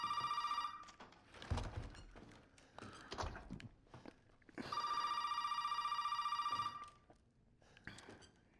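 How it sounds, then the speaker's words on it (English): A telephone rings in Resident Evil 7, with two long trilling bursts, the second running about two seconds. Between them come thuds and faint footsteps, all fairly quiet. "Can I pick up the phone?"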